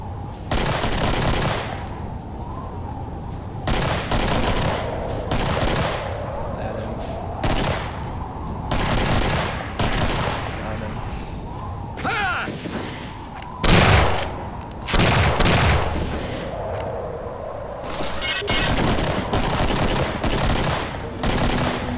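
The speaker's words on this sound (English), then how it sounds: "Shooting rockets." Rocket launches and rapid gunfire from the shooter game Doom 2 come in dense, loud volleys with short gaps between bursts. The blasts run continuously over a constant background, with no talk.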